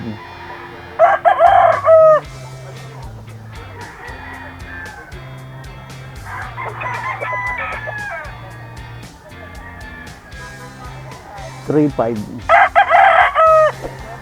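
Gamefowl roosters at a farm crow loudly and close by, with three distinct crows spaced through the clip over a low background of clucking and other birds.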